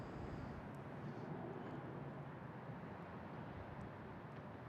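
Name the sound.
airplane taking off at Boston Logan airport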